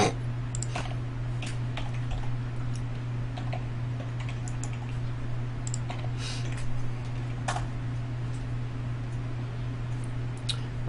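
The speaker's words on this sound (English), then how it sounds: "I was typing too fast." Fast typing on a computer keyboard, a steady run of light clicking keystrokes over a constant low electrical hum, with no voices.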